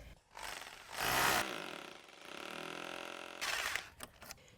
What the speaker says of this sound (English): drill a little hole into the brickwork over here